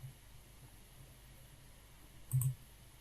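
Computer mouse clicking while working in Photoshop: a single sharp, close click near the end, otherwise only faint background hiss.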